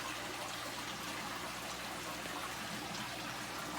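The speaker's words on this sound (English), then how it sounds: "I'm doing a water change right now, which is literally as easy as flipping this switch" Water pouring steadily into home aquarium tanks during a water change, a continuous rushing, splashing flow heard close and evenly loud throughout with no talk.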